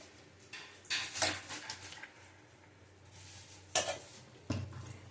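A kadai wok is set down on a kitchen stove with a few separate metallic clanks and knocks, close by over quiet room noise.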